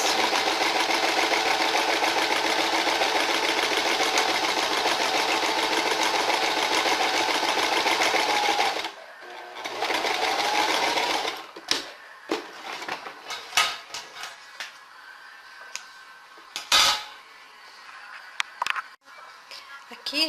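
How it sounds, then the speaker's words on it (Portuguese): Sewing machine stitching fabric for a striped dish towel, running in a steady loud whir for several seconds, stopping, then resuming briefly before giving way to scattered clicks and handling noises, with a voice speaking. "Vai costurando e girando o tecido para ficar mais fácil."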